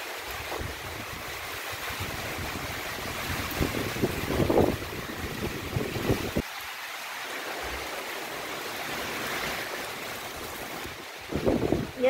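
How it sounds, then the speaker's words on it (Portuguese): Steady rushing wind with rain hitting in gusts, swelling into louder surges a few times, continuous and nearby. "E é chuva de vento, pessoal."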